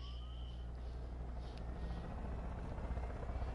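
Helicopter in the video game Far Cry 5, a steady low rotor and engine drone that stays loud and continuous throughout, with faint game sounds above it and no talking.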